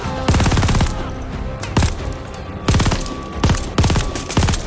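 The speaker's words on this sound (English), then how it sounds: "MG42 with extended mags, yes!" An MG42 machine gun with extended magazines fires in the Call of Duty: Vanguard video game, loud close bursts of rapid automatic fire repeating in four or five volleys with short pauses between them.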